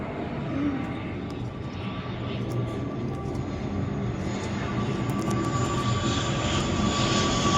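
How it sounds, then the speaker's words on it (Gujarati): An airplane passes overhead as a steady, broad engine roar of even loudness throughout, with faint background noises and no clear voices. "ચેલેન્જ કરતા કરતા ઉપર વિમાન આવી ગઈ છે."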